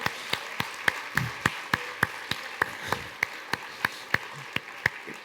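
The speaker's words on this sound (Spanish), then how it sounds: "vamos a mandarle un aplauso a Greg de Alessandria" Sparse, evenly spaced claps ring out at a talk on Mexican chocolate, one sharp clap roughly every third of a second, fairly faint against a quiet room.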